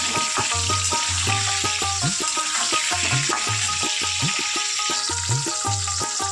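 Pieces of young jackfruit fry for biryani in a pan, giving a steady, busy sizzle with repeated clinks and scrapes of stirring throughout, close and fairly loud.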